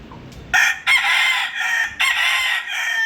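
A rooster crows loudly and close by, a long strained call broken into several bursts, with no talking over it.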